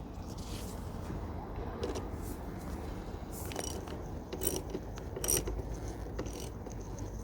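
A ratchet tightening the negative battery clamp on a Ford Ranger T6, quick clicking bursts of the pawl at close range over a steady background hum.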